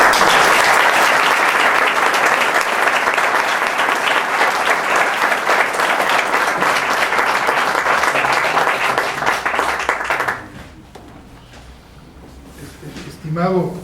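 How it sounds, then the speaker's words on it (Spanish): An audience at a Jalisco geography and statistics society lecture on medical marijuana gives a doctor loud, sustained applause for about ten seconds, then it stops abruptly and the room goes quiet. "En este momento vamos a pasar a darle un aplauso al doctor"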